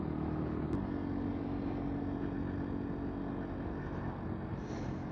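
A 125cc four-stroke motorcycle rides along a straight, empty road, giving a faint, steady engine drone mixed with rushing wind and no clear change in pace.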